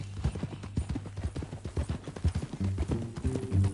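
A horse's hooves clip-clop in a steady, quick rhythm while riding in Red Dead Redemption 2, close and fairly loud over a low rumble of movement.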